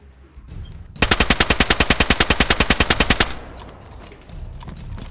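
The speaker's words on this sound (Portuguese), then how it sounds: "Só atirei na direção, deixa eu ver." A rapid burst of automatic gunfire in the video game DayZ rattles out loud and close, about two dozen evenly spaced shots over two seconds, followed by quieter ambient game sound.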